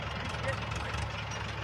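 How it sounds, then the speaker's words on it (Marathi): JCB excavator and tractor engines running together on a farm, a steady close mid-pitched engine drone and rumble filling the whole moment, with a voice talking over it. "तिकडे JCB चाललाय, इकडे ट्रॅक्टर चाललाय"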